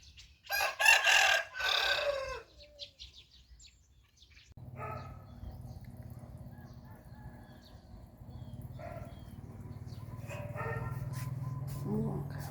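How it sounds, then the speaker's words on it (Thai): A rooster crows loudly up close, followed by quieter clucking and scattered bird calls over a steady low hum, at a home in Wanon Niwat, Sakon Nakhon, northeastern Thailand. "เลี้ยงไก่ตีนะจ๊ะ"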